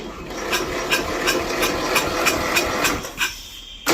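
A Westwood T1200 garden tractor engine restarts after sitting unused for ten years, giving a rough, rhythmic mechanical chugging with regular knocking pulses. It is loud and close, then cuts out briefly near the end.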